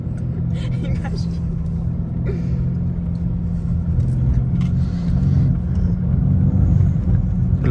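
A Mercedes C63S engine drones as a low, steady rumble from inside the car while drifting, with the note swelling slightly toward the end and people talking over it.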